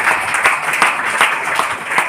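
Audience applause at a company event in Chandigarh, a steady burst of many hands clapping together indoors, loud and dense, with individual sharp claps popping through the wash.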